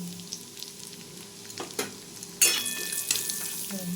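Turmeric powder frying in hot oil for mango dal, a low sizzle with a few stirring knocks, then a sudden louder burst of crackling that carries on to the end; close and without speech.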